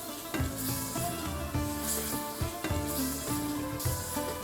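Shrimp and meat sizzle loudly in a pan while being stirred, with a continuous hiss broken by repeated scraping strokes of the utensil, close and alone with no voices.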